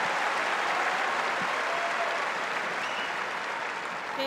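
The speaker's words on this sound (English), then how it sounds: "Applauded by Serena Williams, that winner." Steady crowd applause fills the court after a winning shot in a professional women's tennis match at Indian Wells, broad and sustained throughout, slowly easing toward the end.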